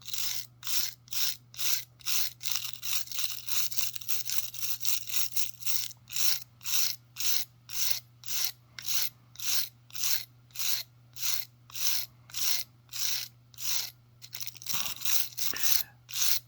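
Paint is scraped off an N scale model of a 1920s gas station building in quick, even strokes, about two a second, each a close, sharp raspy scratch, against a low steady hum.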